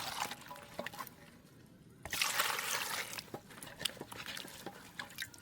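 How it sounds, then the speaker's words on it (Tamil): Okra is washed by hand in water, with splashing, trickling and sloshing bursts between quieter pauses, close and fairly soft. "இதுக்கு நாங்கள் வெண்டிக்காய் முதல்ல கழுவி எடுப்போம்"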